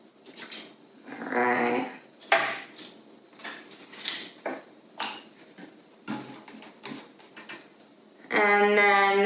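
A spoon clinks while measuring a tablespoon of MCT oil for a low-calorie virgin piña colada mocktail: a few light, sharp taps scattered between short bits of speech.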